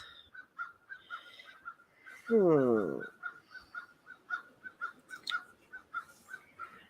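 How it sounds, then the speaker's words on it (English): Crows caw repeatedly in the distance, a steady series of short calls, while a person makes a brief humming sound partway through. "I hear the crows."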